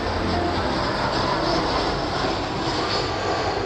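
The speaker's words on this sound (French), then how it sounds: "Il y a vraiment beaucoup d'avions, c'est hallucinant." Airplanes fly over Faro, Portugal, producing a loud, continuous jet-engine roar that fills the whole stretch without a break.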